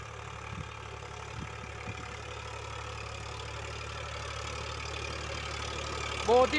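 Eicher 551 three-cylinder tractor running with a tiller in a field: a steady, continuous engine drone with a knocking low throb, heard close throughout, with a few faint thumps early on and a short burst of noise at the end.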